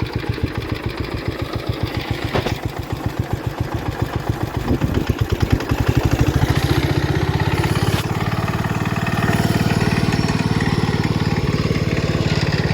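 A John Deere 112H lawn tractor, revived after sitting for years, idles steadily with a fast, even single-cylinder putter that thickens into a heavier, louder drone partway through, with no voices present.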